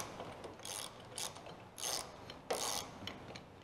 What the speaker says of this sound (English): you guys can all laugh at me not being able to drive a lag in with the ratchet